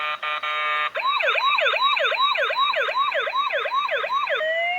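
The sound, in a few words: ambulance siren from toy ambulance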